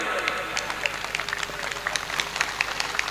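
Applause from a seated crowd under a large tent at a live Rajasthani gathering, clapping for the Godara family: steady, dense clapping at moderate distance throughout, with faint voices mixed in.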